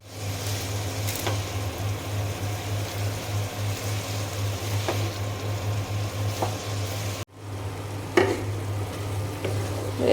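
Cabbage frying with small prawns in a pan, a low steady sizzle under repeated scraping stirs, with a brief break and a louder clatter near the end.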